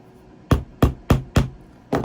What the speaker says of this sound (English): it's pretty easy to hammer the tacks in